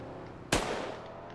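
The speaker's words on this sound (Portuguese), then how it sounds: "Pode dar um tiro no pneu aí, que ele deu uma." In the GTA roleplay game, a single sharp gunshot fired at a car tyre during a police chase cracks out loud and close, then leaves a brief ringing tail.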